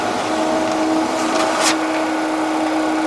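A single-speed fan pulls air out with a steady, loud, close whoosh and a constant motor hum that holds unchanged from start to finish.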